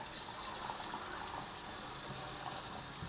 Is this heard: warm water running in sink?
yes